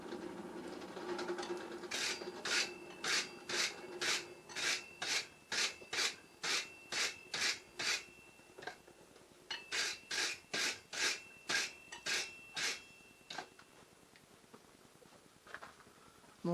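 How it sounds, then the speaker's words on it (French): A brush scrubs a piece of forged metal after overheating, in quick, regular rasping strokes. A run of about a dozen strokes is followed by a short pause and then a second run, each stroke a sharp, close scratch. "je vais lui passer un coup de brosse"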